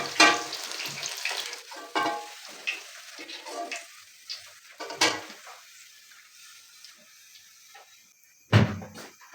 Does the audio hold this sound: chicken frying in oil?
yes